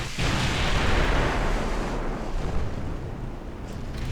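Naval gunfire from warship turrets in the Ultimate Admiral Dreadnoughts game: a heavy, rumbling blast that swells and rolls on with a broad roar, loud and dense, fading slowly toward the end.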